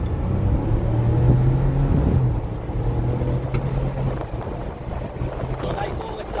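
Ford Bronco accelerating on a busy road with the top open, a steady low engine drone and rushing wind buffeting the cabin throughout, fairly loud and continuous.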